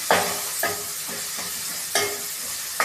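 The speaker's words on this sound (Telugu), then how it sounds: "కలుపుకుంటున్నా. మంచి కలుపుకుంటున్నా" Chicken curry masala is stirred in a pan, a spoon scraping in four or five distinct strokes over a steady sizzling hiss, close and moderately loud with nobody talking.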